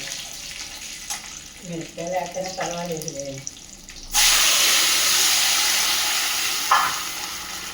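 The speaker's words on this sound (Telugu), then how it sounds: "ముందుగా మిర్చిని ఫ్రై చేయాలి." Dried red chillies for a Malabar spinach rasam hit hot oil in a pan: a sudden loud, broad sizzle bursts in midway and hisses steadily to the end, after a quieter opening with a murmuring voice.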